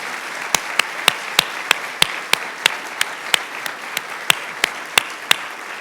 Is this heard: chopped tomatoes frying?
no